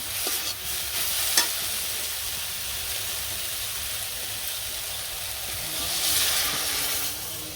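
Greens fry in a pan with small fish added, giving a steady broad hissing sizzle that swells slightly near the end, close and even, with a faint clink near the start.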